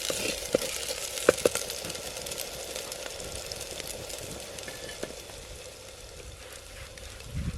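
Onions sizzle steadily in a pan over village cooking, a dense, even crackle with a few sharp pops and clinks standing out, no voices over it.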